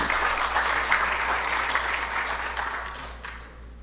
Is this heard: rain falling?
no